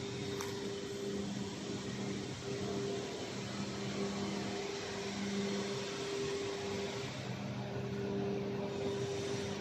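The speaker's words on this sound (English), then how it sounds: "This is the dryer." A fan runs inside a 45-meter dryer on an automatic fiber cement board production line, a steady loud whirring drone with a constant tonal hum, unbroken throughout.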